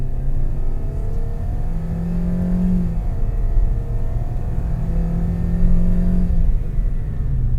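Toyota Veloz 1.5L MPV engine revving steadily under gentle acceleration, a continuous close rumble with a rising whine that swells twice, no talk.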